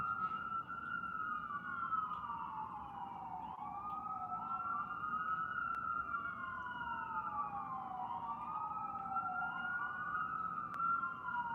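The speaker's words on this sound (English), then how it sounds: "Oh my god, the sirens." A wailing emergency siren rises and falls in long sweeping cycles, steady and fairly distant, over a low rumble of traffic.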